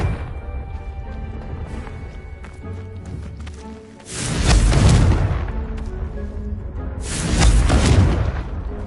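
Two heavy, booming blasts of the Confringo curse in Hogwarts Legacy erupt a few seconds apart, each a loud crashing explosion with a rumbling tail, after quieter ambient game sounds.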